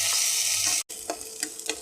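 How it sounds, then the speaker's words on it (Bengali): Fish and green chillies fry in hot oil in a steady, close sizzle that breaks off briefly, then resumes with a few soft stirring scrapes. "ভালো করে ভেজে নিতে হবে"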